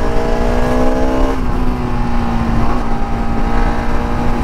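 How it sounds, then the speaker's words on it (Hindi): A Bajaj Pulsar RS200 motorcycle engine with no exhaust roars loudly and steadily, its pitch sagging as it shifts down a gear and then holding a constant, raw drone throughout. "ना कोई एग्जॉस्ट है ना कुछ है, बट रोर करता है उसका इंजन"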